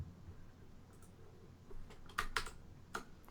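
Keys on a computer keyboard tap in a short, uneven burst of faint clicks, with a few sharper strikes near the end, quiet and close, with no talk.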